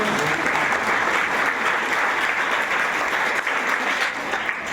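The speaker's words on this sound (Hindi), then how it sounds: "तो ताली बजा दो।" Steady, dense applause from an audience, a continuous clatter of many hands clapping for the whole stretch with no pauses.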